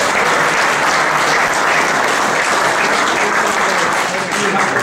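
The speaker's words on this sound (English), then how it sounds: "So can we have a round of applause for them for doing it?" A brasserie audience applauds loudly and continuously, dense clapping that fills the whole stretch at close range.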